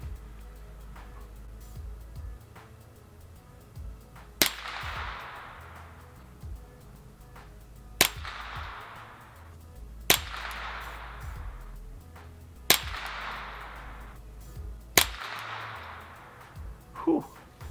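A suppressed Ruger 10/22 Takedown rifle with a Tactical Solutions SBX barrel fires 40-grain .22 rounds, five sharp cracks spaced a few seconds apart, each followed by a brief hissy tail, with someone talking quietly between shots.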